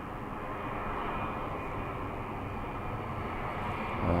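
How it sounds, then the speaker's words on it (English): A Ryanair Airbus A320 airliner on short final at Birmingham Airport, its engines a steady broad roar at a moderate distance, rising slightly toward the end. "Ryanair A320 on very short finals."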